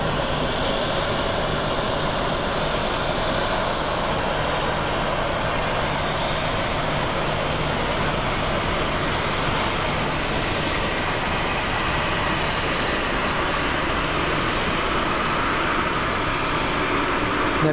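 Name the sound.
Embraer jet aircraft departing at Sky Harbor Airport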